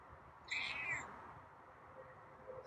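A single drawn-out meow from a feral cat with a rising then falling pitch, fairly close and clear, followed by quiet room tone.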